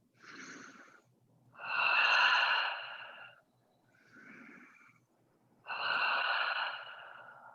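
Slow, deliberate breaths during a deep glute-stretching yoga pose, with the head resting on a block: a soft inhale, a long audible exhale, a short quiet breath, then another long exhale, close and alone.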